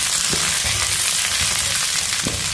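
Garlic and pirandai sauté in a pan, giving a loud, continuous close-up frying crackle with a few low spatula knocks as they are stirred, and no talking.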